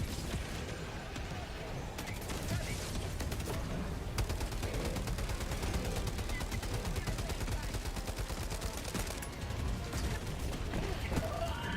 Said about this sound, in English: Someone's got a mortar, and that is making it very hard.